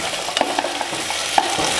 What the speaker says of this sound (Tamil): இப்போ உருளைக்கிழங்கை நல்லா வதக்கி விட்டாச்சு.